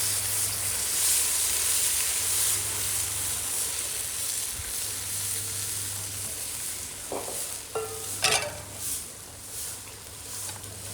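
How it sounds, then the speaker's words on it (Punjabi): Hot tempering poured into kadhi, a steady hissing sizzle under a low hum, followed by a few sharp clinks and clatters of a utensil against the pot toward the end; no talking. "ਲਓ ਜੀ ਤੜਕਾ ਭੁੰਨ ਲਿਆ ਤੇ ਹੁਣ ਪਾ ਦਾਂਗੇ ਆਪਾਂ ਕੜੀ"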